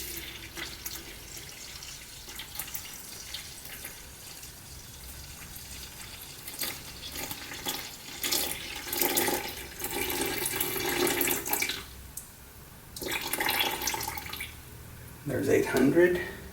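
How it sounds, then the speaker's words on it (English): Around 800 grams of warm water, heated to about 90°F, runs into a bowl for sourdough, a quiet uneven pour that swells and fades in bursts, with a person talking now and then. "The next I'm going to be adding the water."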